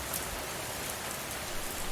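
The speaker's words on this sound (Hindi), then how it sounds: "बारिश का शोर और बिजली की चमक डरावना माहौल बना रही है।" Steady, hissing rainfall pours down during a storm, an even, continuous wash of drops with no voices, fairly soft in level.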